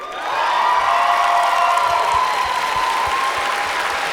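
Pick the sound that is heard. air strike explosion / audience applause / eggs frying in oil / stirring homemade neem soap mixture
audience applause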